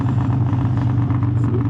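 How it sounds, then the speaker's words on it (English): A 2001 Harley-Davidson Softail engine idles close up with a steady low rumble, though no distinct backfire pop stands out in the short stretch. "Listen to this backfire, ready?"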